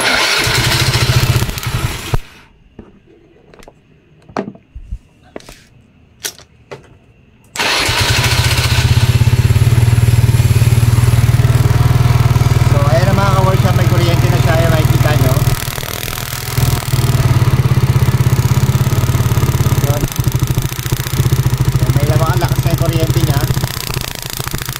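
A Euro Keyway motorcycle with a stalling problem cranks with a few sharp bursts, then catches and runs at a steady, loud idle close by, the engine drone continuing for most of the clip while someone talks over it.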